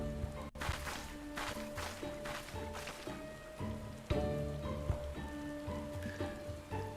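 Rain falls in the video game Final Fantasy XIV, a steady patter of drops on surfaces with soft game music and tones layered underneath, no voices.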